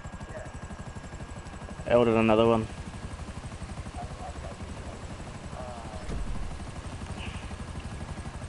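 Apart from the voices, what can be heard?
helicopter flying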